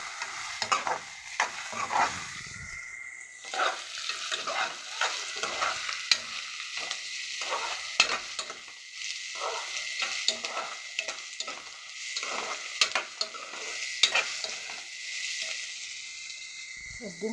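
Ginger, garlic and garam masala fry in a pan: a close, steady sizzle with repeated scraping and clacking strokes as the mixture is stirred, and no talking.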